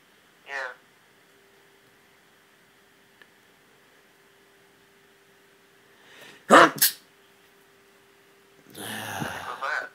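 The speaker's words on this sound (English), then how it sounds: "Me sneezing." A person sneezes sharply partway through, with a second, longer noisy burst near the end, heard over a faint steady background hum while playing the survival game 7 Days to Die.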